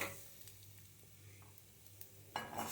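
Urad dal stirred and dry-roasted in a pan until golden, a faint soft sizzle with scraping strokes of a spoon, then a sharper clatter at the end.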